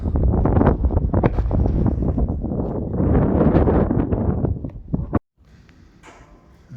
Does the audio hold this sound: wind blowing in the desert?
yes